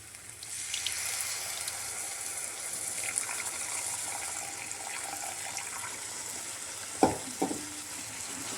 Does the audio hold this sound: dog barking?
no